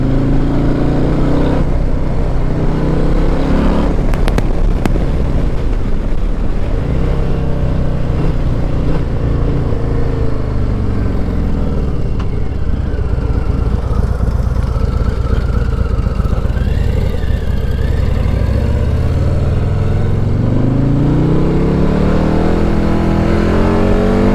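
Revving engine of a 2024 Harley-Davidson Low Rider ST with a Stage 4 Screamin Eagle kit, a loud steady rumble that rises and falls through shifting pitch during a test ride, with no talk.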